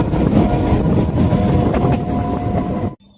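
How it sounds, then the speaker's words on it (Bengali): The inside of an early-morning train compartment on the way to Bakkhali rings with a steady, loud rumble and rattle of the moving train that cuts off abruptly near the end. "আমরা কিন্তু ট্রেনের কম্পার্টমেন্টে উঠে পড়েছি।"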